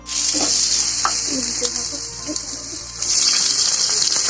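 Chopped ginger and garlic hit hot oil in a pan with a bright, loud hiss that eases briefly, then surges again, and occasional stirring clinks can be heard.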